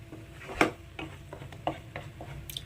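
A spatula stirs ground onion, ginger and garlic paste in a pan over a high flame for egg ghee roast masala, giving close scraping taps and a faint sizzle in uneven strokes.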